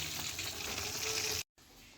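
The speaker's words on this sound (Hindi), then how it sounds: "अब हम इसको निकालते हैं और बाकी का चिकन भी हम इसी तरह फ्राई कर लेते हैं।" Chicken pieces fry in hot oil for a burger recipe, a steady close sizzle and crackle that cuts off abruptly and then returns softer, with no voices.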